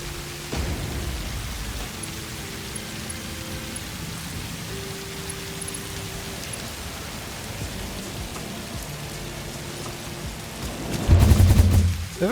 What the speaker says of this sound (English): that rain is really loud.